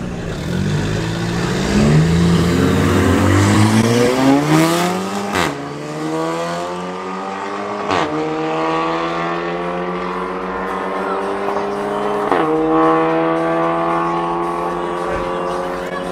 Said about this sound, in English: next up is a Magan GT going up against the S3